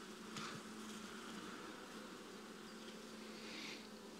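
Honeybees swarm-buzzing inside an opened hive during a swarm check, a steady dense drone with a low hum and brief louder rises near the start and end, close and continuous, no talk.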